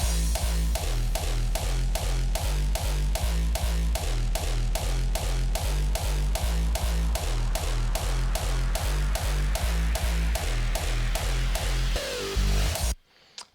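A hardstyle kick built in FL Studio thumps in a fast, even pulse, its pitch stepping up and down to follow the root notes. It plays loud and alone before cutting off abruptly.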